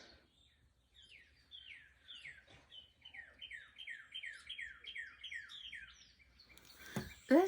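Small birds chirp outdoors in rapid, repeated descending tweets, moderately near and growing denser, ending with a sudden loud clatter close by.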